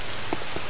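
Rain pours onto and through a building in the video game Arma 2: DayZ, a soft continuous patter with faint scattered drops and no talk over it.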